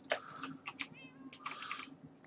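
A house cat meows several times in short, clear calls against a quiet indoor background, with faint clicking like keyboard typing between the cries.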